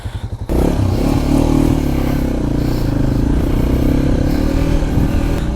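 A Loncin Voge LX300GY adventure motorcycle idles with a few short pulses, then pulls away with a loud, steady engine drone close to the rider, on a road trip across Ukraine.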